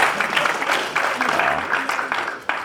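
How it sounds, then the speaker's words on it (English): Conference crowd gives a big round of applause, loud and fairly close, clapping and cheers running on with a few sharp claps near the end. "Big round of applause."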